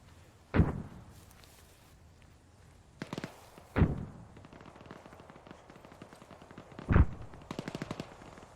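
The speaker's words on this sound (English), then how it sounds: "There are shots coming from the south." Gunfire in the video game Arma 3: three sharp, separate rifle shots spaced a few seconds apart, with fainter rapid bursts and crackle between them, heard alone without talking.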